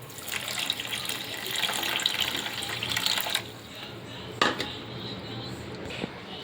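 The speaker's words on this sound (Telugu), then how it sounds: "1 కప్పు పంచదారకి నేను 1 కప్పు వాటర్ వేస్తున్నాను" Water is poured into a pan of sugar to make syrup, a splashing pour for a few seconds followed by a sharp clink of a utensil against metal, then quiet kitchen ambience.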